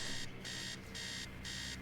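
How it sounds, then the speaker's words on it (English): An alarm clock blares upstairs in a horror video game, a loud electronic ring pulsing in four even bursts over a low droning background, no voices. "Upstairs, the sound of an alarm clock blaring."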